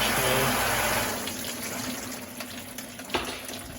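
Water sprays from the arms of a GE dishwasher with the door open, a steady hissing rush that is loudest at first and then settles into a softer continuous spray, with a faint click near the end and no voices.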